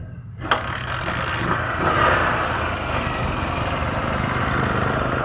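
A CT 100 motorcycle engine sputters after a sharp click, then runs as a steady low, rough rumble up close, without settling into a clean idle.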